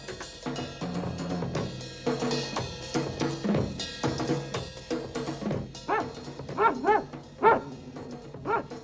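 Cartoon dog barking in a 1969 animated children's series, repeated yelps and barks over busy background music, growing louder and more frequent toward the end.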